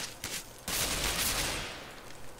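Automatic gunfire from a round of the shooter game CS:GO, a sharp burst of shots at the start followed by a dense, sustained volley of rapid fire that stays loud and then slowly tapers.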